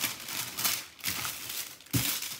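Greaseproof paper crinkles and rustles as it is laid over a baking tray for peanut butter choc chip cookies, several close crumpling bursts with a sharper crinkle near the end.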